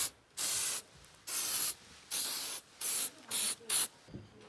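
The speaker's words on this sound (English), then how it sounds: "Gotta spray down with this crap every morning because the ticks are so terrible." Tick repellent sprayed from an aerosol can during a hunting trip in South Africa, six loud hissing bursts of about half a second to a second each, with short pauses between them, close to the microphone.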